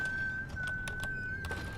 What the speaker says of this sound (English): That lady, that daughter of his is, very loud, and whistling and making noises.